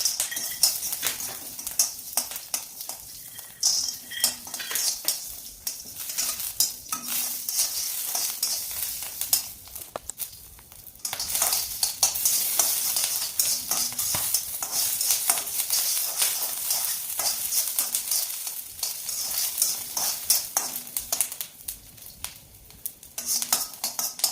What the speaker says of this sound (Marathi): आता आपण मिरच्या आणि शेंगदाणे भाजून घेऊया